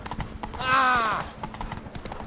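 Roach, a horse in a PS4 video game, gallops in a fast, even clip-clop of hooves with a sharp whinny rising partway through, up close and loud.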